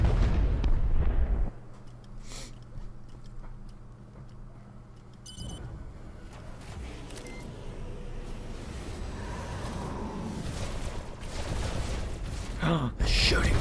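Blaster gunfire and booming shots in Star Wars: The Old Republic, a loud burst at the start then a steady rumble of combat with sharp impacts, heard beneath game dialogue and background score.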